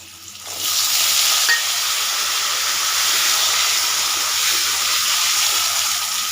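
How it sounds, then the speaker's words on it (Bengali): Potato pieces fry lightly in a pan in a home kitchen, a steady bright sizzle starting after a short quiet moment and holding loud and even throughout, with no talking. "এবার আমি আলুগুলো একটু হালকা করে ভেজে নেব"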